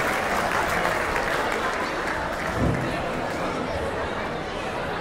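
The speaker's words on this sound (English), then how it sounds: "Let's give them a big round of applause." Audience at a celebration event gives the team a big round of applause, loud sustained clapping mixed with crowd chatter and voices throughout.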